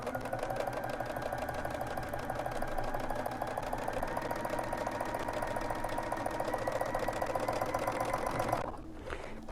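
A sewing machine stitches a quarter-inch seam with a quarter-inch foot, easing fabric around a curve; its steady fast mechanical whir runs loud and continuous, then stops abruptly near the end.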